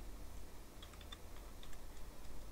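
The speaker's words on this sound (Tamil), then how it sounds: "w3schools.com நீங்கள் டைப் பண்ணுங்கள்." Keys clack on a computer keyboard as a website address is typed, a faint, quick run of separate taps in the middle, set against a quiet room hum.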